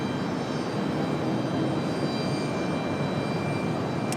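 A jet airliner departing Raleigh-Durham airport gives a steady, broad roar of engine noise, moderately loud and unbroken across the whole stretch with no talk.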